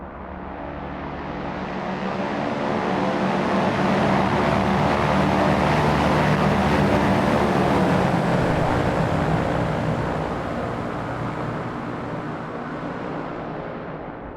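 Four-engine B-17 Flying Fortress bomber roaring at takeoff power in the MicroProse flight sim, a loud, steady multi-engine drone that swells in and holds for the full stretch, with no talk over it.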